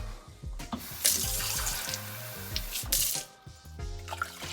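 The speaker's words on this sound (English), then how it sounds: "2 cups of water to start." Tap water runs steadily into a measuring cup for brisket brine mix, a continuous splashing rush with brief louder surges, close and alone without speech.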